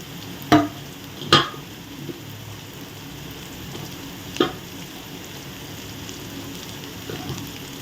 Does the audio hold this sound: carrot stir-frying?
yes